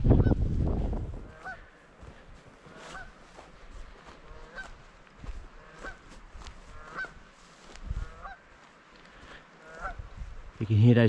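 Canada geese honk repeatedly at a distance, a scattered chorus of nasal calls over low outdoor rumble and a few soft voices.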